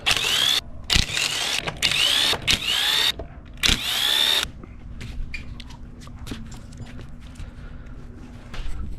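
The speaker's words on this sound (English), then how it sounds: "19mm socket for the lug nuts." An impact gun with a 19mm socket spins lug nuts off a 2006 Subaru Impreza WRX STI wheel in several loud, close bursts of whirring rattle, followed by quieter clinks and handling noises.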